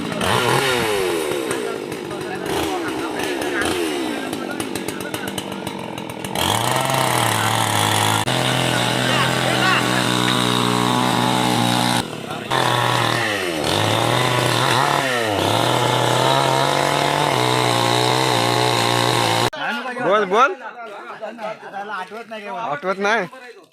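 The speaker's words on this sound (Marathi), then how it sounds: "लाकडं मोठं आहे म्हणून आता मशीननी लाकडं कापणार आहे" A chainsaw cuts large logs of wood outdoors during a Shimga festival bonfire preparation in Konkan, a loud, sustained engine whine rising and falling with each cut, with people talking throughout.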